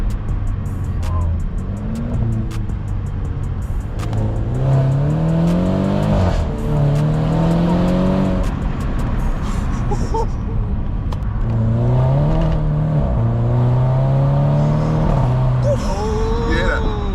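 A Mercedes engine revs and accelerates from inside the car while driving, with repeated rising engine pitch sweeps and road noise as passengers talk and react over it.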